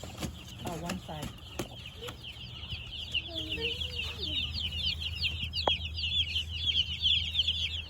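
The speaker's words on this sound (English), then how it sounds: "that's our first batch of meat chickens for the fall" Meat chickens, a fall batch, clucking in a steady chorus close by, with some short calls early on and constant chirping in the background.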